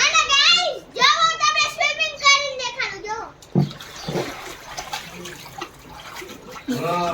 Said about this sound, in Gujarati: હવે બેય સ્વિમિંગ કરે છે